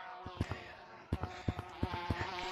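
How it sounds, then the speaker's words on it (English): Bees buzz in a video game, a thin insect-like drone with a string of soft clicks and taps running through it, fairly quiet and without any voice over it. "Come for me, bees!"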